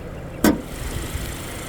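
A 2022 Subaru Outback AWD Touring sits idling with a low, steady engine rumble, broken once by a short sharp click near the start.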